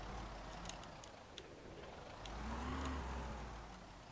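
Car engine in the game Project Zomboid, a steady low hum that swells into a rev midway and holds, moderately loud and alone.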